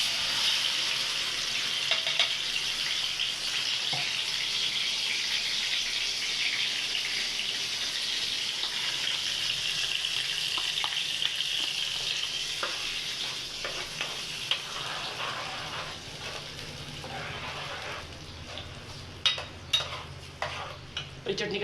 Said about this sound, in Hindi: इन दोनों को मैं मिक्स करके इन दोनों को मैं भून लूँगी।